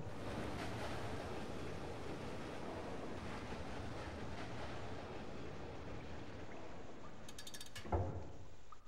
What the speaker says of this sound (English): What's with all the water?